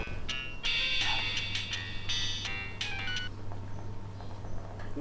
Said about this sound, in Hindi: ये उसी डाइन का फोन है।